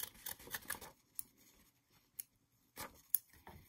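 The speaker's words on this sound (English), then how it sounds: "Trim the excess fabric" Scissors snip away excess fabric from a small paper-pieced heart, a handful of quick, crisp cuts in short bursts separated by quiet pauses, close and with no talk.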